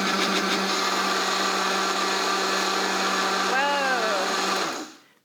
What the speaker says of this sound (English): Put it into the blender, turn it on until it starts to get tiny.